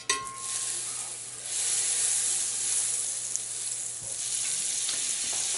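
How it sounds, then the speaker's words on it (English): Butter sizzling in a hot skillet, a loud, steady crackling hiss that swells slightly and carries on alone throughout. "In the same skillet, you want to add 2 tablespoons of butter."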